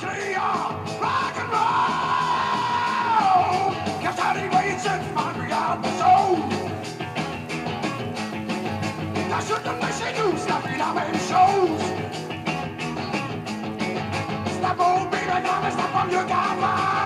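A male rock singer screams and yells in a harsh, extreme voice from a 1974 recording, sustained over loud driving band music for the whole stretch.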